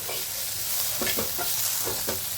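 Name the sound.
onion frying in a pan for kanda poha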